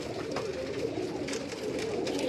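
Pigeons coo steadily in a rooftop loft in Karachi on a hot day, a continuous low murmuring chorus close by with no talk.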